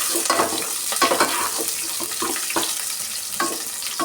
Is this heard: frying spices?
yes